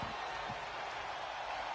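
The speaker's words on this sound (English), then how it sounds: "The crowd are loving it." Broad crowd roar fills the arena at a wrestling match, a steady wash of cheering from many voices held at constant level throughout, with no distinct speech on top.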